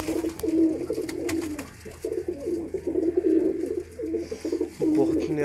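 Kamagar pigeons cooing repeatedly in Sialkot, close and fairly loud, with soft throaty coos in irregular phrases and a few sharp clicks and rustles between them.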